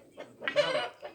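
Chickens cluck in a few short, faint bursts outdoors on a windy day.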